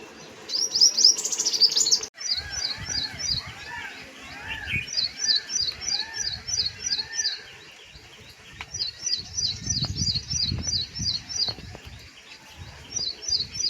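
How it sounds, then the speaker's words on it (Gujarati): A small sparrow chirps in quick repeated runs of high, bright notes, fairly close, with brief pauses between bursts and some low rustling underneath. "જોઈ ઝીણકી ચકલી"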